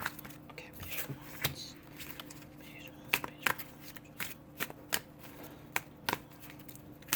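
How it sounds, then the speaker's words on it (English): Tarot cards are shuffled and riffled by hand close up, a series of crisp snapping flicks at irregular intervals over quiet room tone. "I can't take them all, so I'm going to keep shuffling here"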